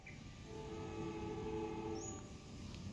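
The Mataram KA 75 passenger train, stainless steel new generation executive and economy cars, rumbles past steadily and loud, with a brief horn tone rising above the roar.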